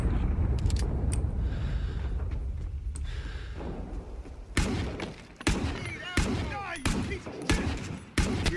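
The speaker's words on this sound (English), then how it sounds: "I just used like 5 or 6 shots on that guy" Gunfire in the Vietnam War shooter Rising Storm 2: Vietnam, with a string of sharp, loud shots cracking in quick succession over rumbling battle noise, while a voice talks intermittently.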